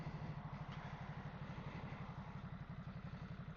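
A cold motorcycle engine idles with a steady, fast, uneven low thumping pulse, close and fairly quiet, running on without voices.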